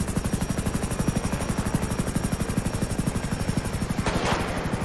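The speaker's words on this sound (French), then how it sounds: "Attention, l'hélicoptère va bientôt décoller, il nous laisse seuls et sur défense." Helicopter in the game GTA spinning up for takeoff, a steady rapid rotor chop throbbing loudly and evenly throughout, with a brief burst of noise near the end.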